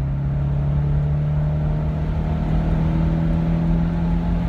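A turbocharged Mitsubishi Evo X with a stock-frame turbo pulls hard while racing a Subaru STI. Its engine drones loud and steady throughout, with no talk.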